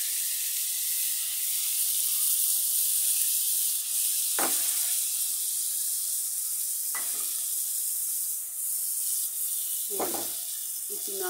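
Spiced koi fish frying in a pan gives a steady hiss and sizzle, broken by three short scraping stirs spread across the stretch, with no talk over it.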